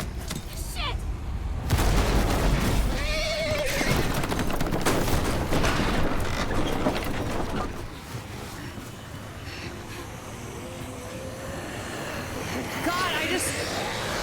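Rapid gunfire in a Walking Dead video game, a dense burst of shots mixed with game effects and shouting voices running steadily under the action.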